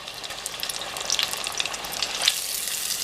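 Dill pickle spears fry in hot oil with a continuous bright sizzle and scattered crackles and pops, heard up close with no talking.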